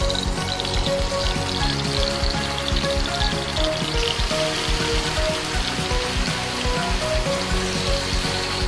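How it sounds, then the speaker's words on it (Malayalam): Marinated chicken pieces frying in oil in a pan, a dense continuous crackling sizzle heard close and steady throughout with no talk. "നമ്മൾ ചിക്കൻ വറുക്കാൻ പോകണേ"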